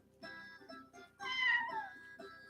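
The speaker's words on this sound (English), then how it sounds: "My cat's talking, Jimmy." A pet cat meows several times at close range indoors, a short call followed by a louder, drawn-out one and a brief final mew, with no talking.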